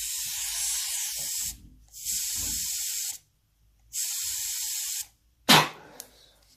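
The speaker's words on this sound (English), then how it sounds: "it's allowing the air that I'm blowing through, which would be fuel, to come through to the carb" Air blown by mouth through the carburetor float needle valve of a Honda CB400T makes three steady hissing bursts, each about a second long with short gaps between. A sharper, brief puff closes the sequence.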